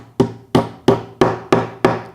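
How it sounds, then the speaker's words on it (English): A hammer taps a metal T-nut into the pocket of a wooden stick rack, six sharp, evenly spaced knocks close by with short ringing decays and no voices. "go ahead and take a hammer,"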